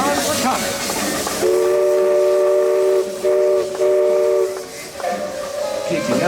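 A Disneyland steam locomotive sounds a long, loud steam whistle near at hand, with several sustained blasts over the clank and rumble of the train; faint voices sit in the background.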